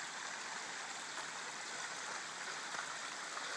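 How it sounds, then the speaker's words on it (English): A babbling brook on a Maine hiking trail makes a steady, soft, broadband rush of flowing water, distant and continuous with no talk. "Came to first Babbling Brook."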